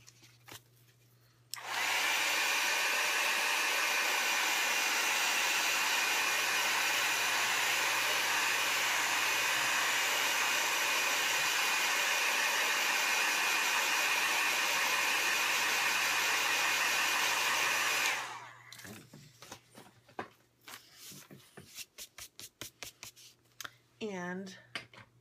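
A hair dryer blows on a watercolor painting, a loud steady whooshing hum that switches on abruptly and runs continuously for about sixteen seconds before cutting off, followed by quiet handling noises.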